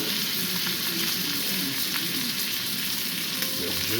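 Rump steak sizzles steadily in melted butter in a hot pan, a constant close crackling fry with no pauses.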